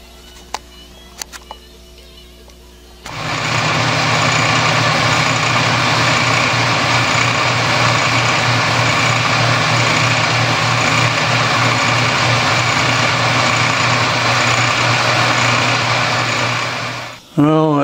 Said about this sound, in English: and then we'll turn these and just machine off this face